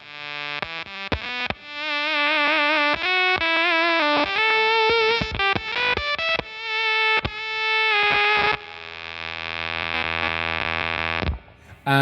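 A Keeley Electronics SYNTH-1 pedal plays a buzzy sawtooth tone in a run of quick, stuttering notes, then holds one long, bright drone before cutting off.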